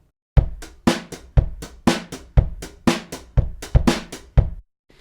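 Live acoustic drums tracked in Logic play a simple steady groove alone, about ten evenly spaced hits of kick and snare with bright cymbal wash, close and punchy, ending in a short silence.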